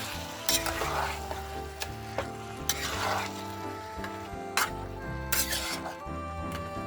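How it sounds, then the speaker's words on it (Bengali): Dhaniya chicken being stirred in a pan, a steady sizzle with intermittent scraping strokes of a spatula and a few sharper clinks, close and moderately loud, with background music tones underneath. "এখন আমি খুলে আর একটু নেড়িয়ে দেবো"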